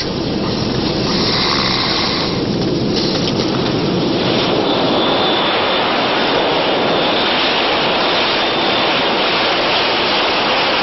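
An aircraft in flight before landing produces a loud, constant broadband roar that fills the whole stretch without pause or voices.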